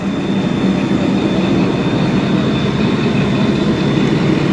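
A 2000-horsepower CSR locomotive imported from China in 2014, numbered ZCU-206419, runs steadily, a loud continuous rumbling roar heard close up from on board and holding even throughout.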